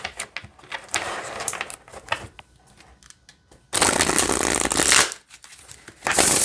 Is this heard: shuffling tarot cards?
yes